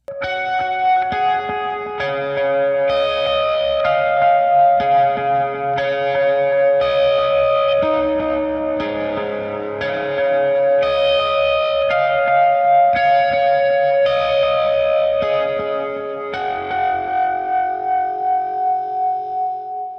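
A heavily effected electric guitar, run through Line 6 Helix effects, plays a layered, sustained riff with echo and chorus shimmer, steady and loud throughout with no voices.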